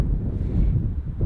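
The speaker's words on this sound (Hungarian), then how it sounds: "Elég erős a szél." Strong wind buffets the microphone outdoors, a loud, steady low rumble with no voices over it.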